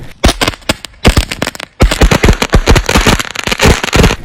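Firecrackers, a novelty cricket-bat style cracker, go off in a rapid, loud series of sharp bangs and crackles, bursts tumbling over one another with brief gaps, no voices over them.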